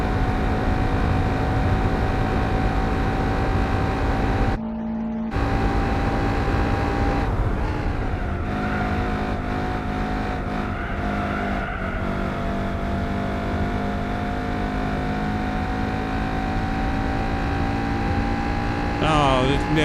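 Car engine sound from the Gran Turismo 4 racing video game, a loud, steady drone that holds throughout with a couple of brief drops and shifts as the revs change, no talking.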